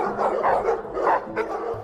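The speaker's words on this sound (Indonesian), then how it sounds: "Tetapi mereka menggonggong pada Hagen ketika ia mencoba untuk memakannya" Stray dogs barking in a scene from the 2014 film White God, a few overlapping barks and yelps close by against a low background hum, with no talk over them.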